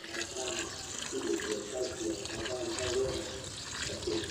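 Water is poured steadily into a container, a continuous splashing fill heard close up under a man's speech and rustling outdoor background noise.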